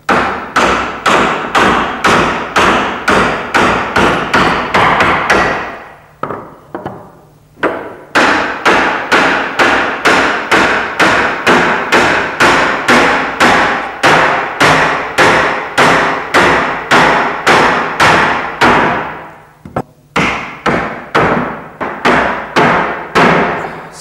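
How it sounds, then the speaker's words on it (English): A wooden mallet knocks apart the timber side rails of old furniture in a fast, loud, steady run of sharp hammering blows, with two short pauses, and no talk. "always use a wooden mallet on timber when you're pulling things apart"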